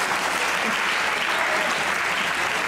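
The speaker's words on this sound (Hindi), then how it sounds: "तालियां होनी चाहिए" Steady, dense applause from a studio audience at a Pakistani TV comedy show, continuous and loud throughout the short stretch, with no voice standing out.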